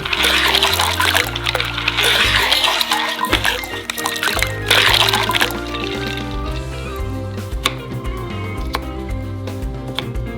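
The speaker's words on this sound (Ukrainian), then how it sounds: "У воду висипаємо кригу" Ice rattles and splashes into water with a loud, crackling pour, settling into softer trickling and clinking.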